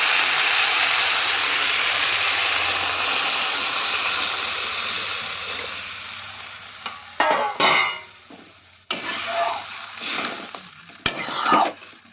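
Okra sizzles loudly in a pan, a dense hiss that gradually fades, followed by splashing and spoon scrapes as water is poured in for an okra and fish curry.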